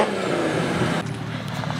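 Nissan 350Z engine revving hard while parked, a loud continuous mechanical roar close by that drops slightly in level partway through, with no voices over it.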